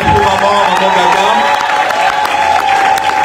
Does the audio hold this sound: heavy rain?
no